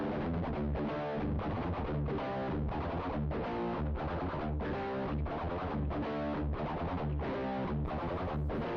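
Distorted electric guitar chugs out a tight, repetitive early-80s heavy metal riff in evenly spaced bursts, dense and loud throughout with nothing else heard.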